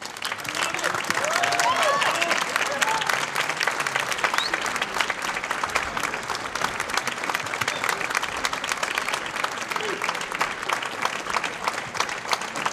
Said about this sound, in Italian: Lo accogliamo allora con un applauso